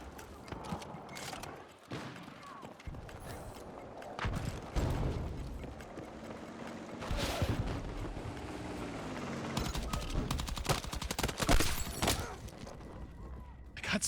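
Gunfire in Battlefield 6 cracks out in scattered sharp shots over busy battlefield noise and rumble, with bursts spread across the stretch and occasional voices in the mix.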